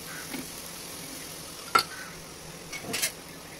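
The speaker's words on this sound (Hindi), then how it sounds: "अब हम इसे घी से सेक लेते हैं।" Corn capsicum paratha frying in ghee on a pan, a soft steady sizzle with a sharp click and a brief scrape of stirring or turning near the end.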